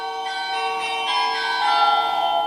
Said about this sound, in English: And that's my Ring app to tell me that someone's outside my door.